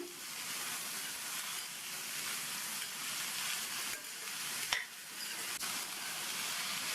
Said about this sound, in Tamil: அதை சேர்த்துட்டு எண்ணெயிலேயே நல்லா 1 நிமிஷம் போல் வதக்கி விட்டுக்கணும்.